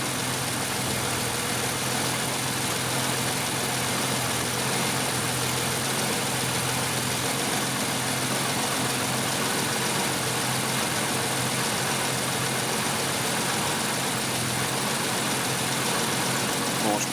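A Jeep Cherokee XJ engine idles cold in chilly weather, a steady, even mid-to-low hum running continuously without change for the whole stretch, close and fairly loud.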